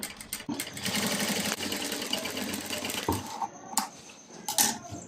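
A sewing machine stitching around the canvas of a long frock, a close, rapid mechanical whirring run that stops and restarts in short bursts, with small clicks between, no speech.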